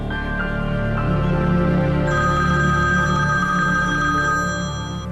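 A telephone rings steadily and loudly at close range, its tone continuous and unbroken, alone without voices, as a call from an uncle comes in during a domestic drama scene.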